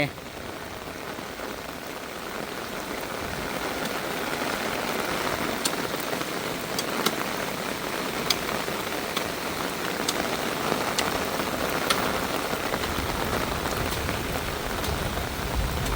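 Steady rain falls at a house in Thailand, a dense even hiss of drops on surfaces with occasional sharper drips standing out, continuous and moderately loud throughout.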